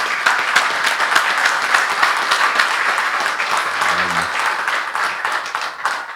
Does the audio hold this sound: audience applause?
yes